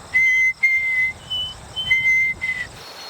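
A person whistles a clear, steady birdlike song, imitating a black-capped chickadee's two-syllable spring call: several sustained high notes on nearly the same pitch with short gaps between them.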